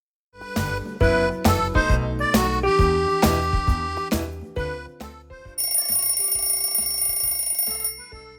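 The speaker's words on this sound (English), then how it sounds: "the alarm goes off at 7 o'clock" An alarm clock rings loudly at seven in the morning, with repeated bright metallic strikes in a fast irregular run, then a sustained high ringing tone near the end, alone with no voices.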